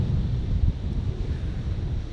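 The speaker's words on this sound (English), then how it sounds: "Behind the camera at the moment is the sea" Sea waves roll against big cliffs at night near the Bathing House at Howick, a low steady rumble of surf heavily mixed with wind buffeting the microphone, with no voices.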